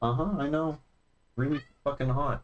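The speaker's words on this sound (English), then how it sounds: "That's my cat screaming." A house cat lets out loud, drawn-out screaming meows near the microphone, mixed in with a person speaking casually.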